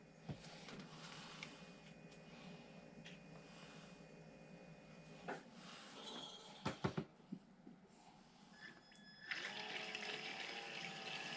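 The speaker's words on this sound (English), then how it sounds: "All my brushed motors, I actually put them in water to break them in before I ever run them for the first time." Brushed RC motor for a Traxxas Rally car running submerged in water during break-in, a faint steady whirring hum with water churning, a few sharp knocks in the middle and brighter splashy noise near the end.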